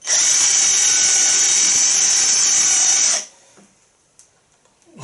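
A loud, close drill screams at high pitch for about three seconds, boring into pine with an 8 mm bit, then cuts off, leaving near silence with a few faint knocks.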